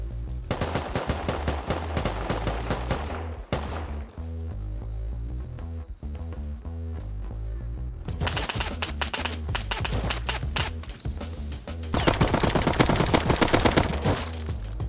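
AK rifles fire in the survival video game Rust in long, rapid automatic bursts, close and loud, with a short lull in the middle before more heavy fire resumes.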